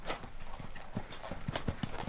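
A ridden ranch horse trots in a steady, even rhythm of close hoof clip-clops, a few quiet beats each second, with faint background noise.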